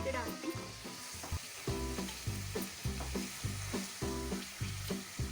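Shredded cabbage cooking in a hot pan for an achari cabbage dish, with a steady close sizzle and rhythmic scraping or stirring strokes roughly every second, no talk over it.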